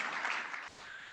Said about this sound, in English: Let's give another warm round of applause to our two honorees.